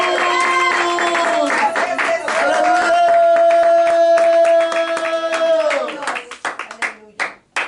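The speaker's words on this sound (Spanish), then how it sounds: "denle un aplauso al Señor, hermano Jesús." A church congregation claps together in a dense, lively round of applause, with sustained sung or spoken voices over it, before the clapping thins into scattered claps.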